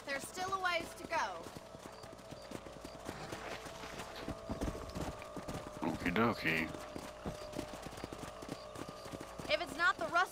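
Horse hooves clip-clop in a steady trot in the video game Red Dead Redemption, moderately close, running under game dialogue and voices throughout.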